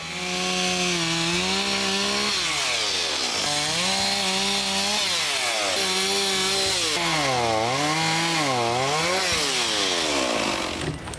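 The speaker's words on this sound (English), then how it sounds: "But I need a real chainsaw for the rest." A gas chainsaw cuts through a fallen tree, its engine note rising and falling in repeated revving sweeps as it bites into the wood, loud and continuous with no talk.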